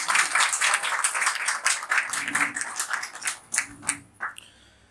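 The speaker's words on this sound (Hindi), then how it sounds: "आप अपनी इजाजत तालियों के जरिए दर्ज करें।" Open mic audience in Delhi claps for several seconds, a dense, fairly close round of applause that thins into a few scattered final claps.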